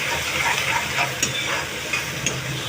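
Onions sautéing with cumin and asafoetida in a hot pan give a steady, close sizzle with soft stirring scrapes, alone throughout.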